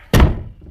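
A single sharp, heavy thunk as a person bumps into a door, loud and close, followed by a short fading rumble and quiet.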